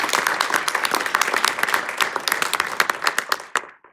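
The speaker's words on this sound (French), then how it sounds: "Je pense qu'on peut les applaudir." Applause from an audience at a New Year's greetings presentation, dense clapping sustained for a few seconds and then thinning and stopping abruptly near the end.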